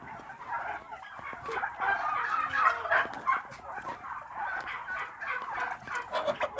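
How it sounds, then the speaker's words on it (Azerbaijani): A flock of two-month-old Australorp chickens and roosters cluck and chatter continuously nearby, many overlapping calls forming a busy poultry-yard din. "O belə xoruzlardır."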